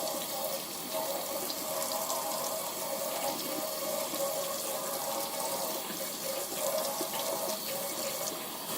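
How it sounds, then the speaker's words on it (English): Warm tap water runs steadily into a sink, rinsing dishwashing liquid off eyeglasses, a continuous close hiss and splash lasting throughout with no talk. "let running warm water to wash away the dishwashing liquid"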